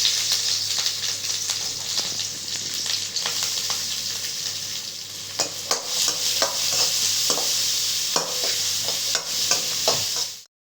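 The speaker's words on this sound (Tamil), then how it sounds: "அதுக்கப்புறம் வெங்காயம் போட்டு வதக்கிக்கிறோம்" Garlic and onion sizzle steadily in hot oil as they are sautéed for egg fried rice, with a continuous bright frying hiss and frequent scraping stir knocks throughout, no talk.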